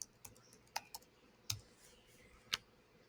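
A few separate keystrokes on a computer keyboard as a search is typed into a design app, quiet and close, landing in scattered clicks with pauses between them and no voices.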